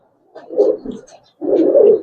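Giribaz and coloring pigeons coo close by, with two soft throaty coos separated by a short pause and no other sound around them.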